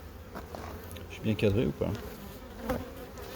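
Agitated honey bees buzz steadily at an open hive while someone speaks briefly over the droning.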